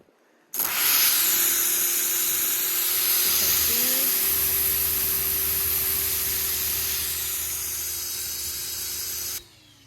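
A pressure washer sprays steadily through a double nozzle, a loud continuous hiss and roar that starts abruptly and holds an even flow for about nine seconds under a faint engine drone.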